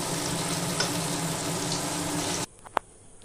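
Slices of eggplant and eggs sizzle in hot oil in a frying pan, a loud, dense crackle that stops abruptly, leaving a near-silent pause broken by one small clink.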